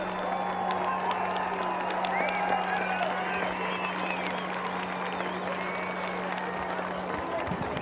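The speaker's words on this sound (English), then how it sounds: "get a round of applause for not only Team Fast Tracks, but all the balloons that participated in tonight's Glowdeo" Crowd applause and cheering at a hot air balloon fiesta's evening glow event, sustained dense clapping with scattered whoops, loud and continuous under a steady low hum.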